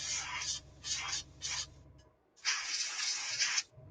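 Short bursts of spray paint hiss onto a car seat at a workbench, three quick sprays followed by a pause and then one longer continuous spray, with a low mechanical hum beneath the first bursts.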